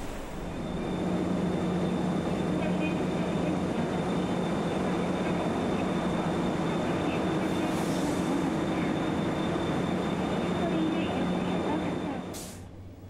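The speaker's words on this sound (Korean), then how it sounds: "매일 아침 6시 15분 춘천으로 향하는 첫 열차가 출발합니다." The Gyeongchun Line train to Chuncheon pulls out of Cheongnyangni Station in Seoul with a loud, steady rumble of rolling wheels. The sound holds for several seconds, then eases off near the end.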